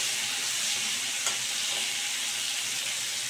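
Potato, papaya and pumpkin chunks fry in a pan for a prawn curry, giving a steady, dense sizzle throughout with one brief clink of a utensil partway through; no one speaks.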